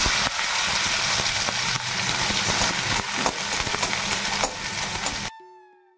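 Onion and two torn dried chillies crackle and hiss in hot oil, a dense, loud sizzle tempering dal that runs steadily for about five seconds before cutting off abruptly.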